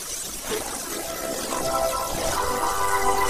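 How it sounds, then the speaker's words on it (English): Water running from a tap for hand washing, a steady splashing pour that grows slightly louder over a few seconds, nearby, with no speech. "Now let's wash my hands and turn the water tap."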